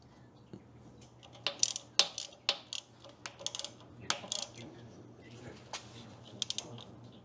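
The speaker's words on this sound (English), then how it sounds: "let's get the pressure pipe bolts back in. 15 foot-pounds is what this is spec'd at." Metal-on-metal clicks and taps from a wrench tightening hydraulic pressure pipe bolts to 15 foot-pounds on a David Brown 990 tractor, heard as scattered sharp, close clicks in a quiet workshop with no talk.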